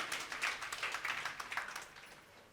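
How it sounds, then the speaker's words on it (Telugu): A congregation at a Telugu Christian worship service claps in praise, a soft, quick burst of hand claps that fades out after about two seconds. "చప్పట్లు కొట్టి దేవుని నామాన్ని గణపరచండి"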